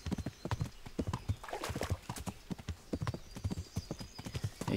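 Horse hooves clip-clopping in a steady trotting rhythm while riding in the medieval game Kingdom Come Deliverance, close and clear with an occasional faint whinny.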